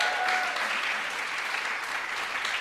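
An audience at a concert with a visiting flute artist applauds the performers. The clapping is steady, dense and sustained from start to end, with no voices over it.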